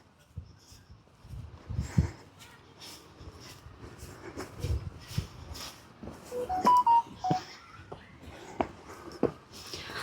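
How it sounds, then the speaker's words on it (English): A few short electronic beeps from a phone ring out briefly amid outdoor background noise and faint rustling, in the Westfalenpark in Dortmund. "That was my phone beeping."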